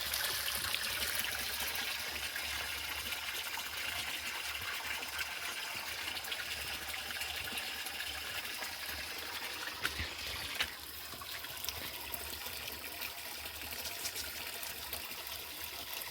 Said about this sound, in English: Very fresh water. So this is now the stream.